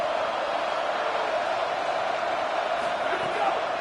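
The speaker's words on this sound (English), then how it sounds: "The crowd electric trying to help Tech on this third down." Stadium crowd noise during a third-down play at a Georgia Tech vs Texas Tech college football game, a steady, dense roar of many voices that holds level throughout without distinct peaks.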